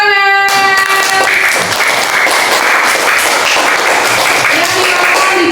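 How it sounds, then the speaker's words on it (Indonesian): A classroom of students claps together for a good answer during a religious lesson, a steady even patter of many hands that fills the room after a brief moment of speech at the start. "Kita beri tepuk tangan."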